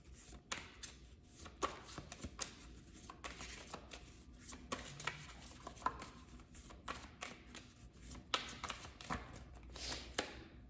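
Tarot cards shuffled and drawn close up, a continuous run of crisp riffling flutters and soft taps as the deck is worked by hand, with no talking.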